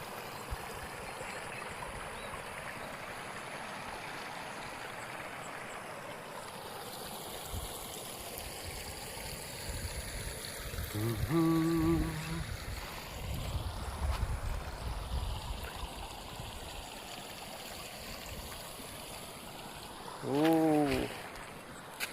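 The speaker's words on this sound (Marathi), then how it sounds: "बांध्यामध्ये पाणी जाताना खूप सुंदर असा दृश्य आहे" Water runs through a dam in an open natural setting, making a steady, moderate rushing flow throughout, with brief tonal sounds near the middle and near the end.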